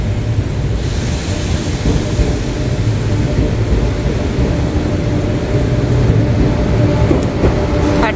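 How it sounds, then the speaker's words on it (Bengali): A KTX high-speed train pulls into a station on a rainy day, producing a steady, loud, broad rumble that holds for the whole stretch with no voices over it. "একটা কেটিএক্স ঢুকলো।"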